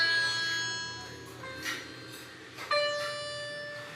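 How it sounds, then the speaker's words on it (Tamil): A Casio CT-X870IN keyboard set to its sitar tone plays a few sustained, twangy notes one after another, each struck note ringing and slowly fading, moderately quiet and close with no talking. "இப்போ நான் வந்து சித்தார் டோன் வச்சுருக்கேன்."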